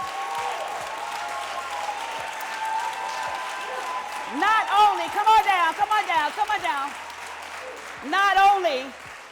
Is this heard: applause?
yes